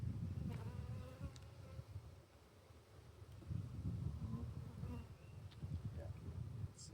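Honeybees buzz around an open hive during an inspection, a soft, wavering drone with clustered bursts of nearby wingbeats and faint handling noises, fairly quiet overall.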